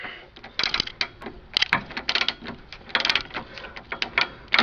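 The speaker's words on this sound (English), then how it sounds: "I'll just be taking these 2 bolts out" Bolts being removed from a Honda Accord gearbox: a run of sharp metallic clicks and ratcheting bursts, close and irregular, with brief gaps between turns.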